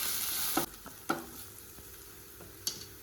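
Food sizzles steadily in a pan over a lowered flame while a spatula scrapes and knocks against it a few times, with no one talking.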